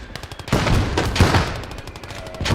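Loud bursts of gunfire from an anti-tank gun in a video game battle on the Finnish front, a dense run of sharp cracks and booms with a heavy blast near the middle and another at the end.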